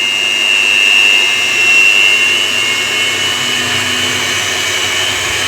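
Ground lentil batter for ros bora being beaten, a steady loud whirring with a high whine, continuous and close, with no talk.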